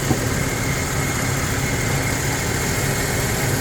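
A 1992 Ford F150 XLT longbed pickup engine idles with a steady, loud, broadband rumble that holds even from start to end, with no talk.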